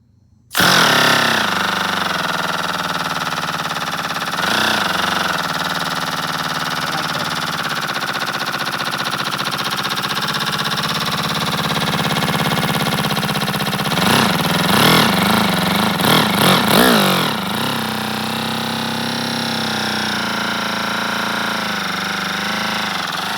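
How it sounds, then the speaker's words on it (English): A 20cc miniature inline twin-cylinder engine running with an offset (odd) firing order buzzes loudly and continuously, with a brief rev near the start and a burst of uneven revving around the middle before settling back to a steady idle. "Let's see how this offset firing inline 2 sounds."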